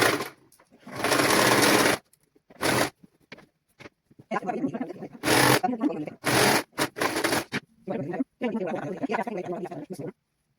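A sewing machine runs in bursts of whirring stitches as fabric is pulled taut for children's clothing, with someone talking between and over the runs.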